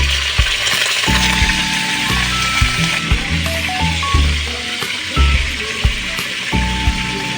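Food fries in a pan with a loud, continuous sizzle and crackle, broken by stirring clatter and clinks of a utensil, in a home cooking setting.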